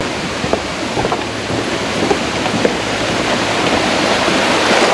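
A waterfall at Crowley's Ridge State Park, heard on a hiking trail as a loud, steady, close rushing roar of falling water with no voices.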